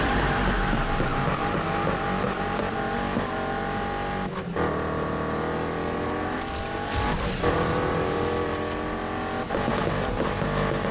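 A Pontiac Trans Am races in the Need for Speed Heat video game, its engine droning loud and steady with rising revs and brief tire squeals, heard alone without talk.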